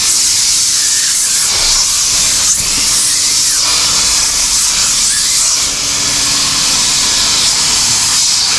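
A hot water extractor cleans a car's interior upholstery with a steady, loud hiss of spray and suction. The sound runs continuously without letting up.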